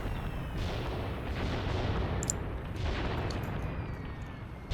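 Artillery fire lands in a Graviteam Tactics battle, a dense, continuous rumble of distant shell impacts and booms rolling on without pause, with a few sharper cracks near the middle.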